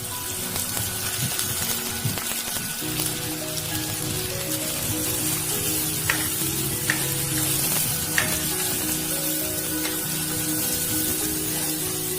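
Tomatoes fry with onions in a clay pot for mutton keema, giving a steady, close, even sizzle with faint stirring scrapes throughout and no talking.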